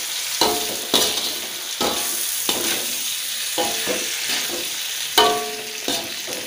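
Shrimp capcay is stirred in a frying pan, giving a loud sizzle broken by repeated scraping strokes about every half second.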